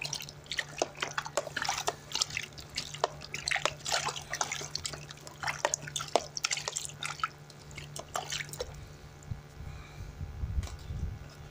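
Water drips and splashes close by while prickly pears are washed in a basin, with many short irregular dribbles over a steady low hum, ending in a louder sloshing pour as the water is emptied.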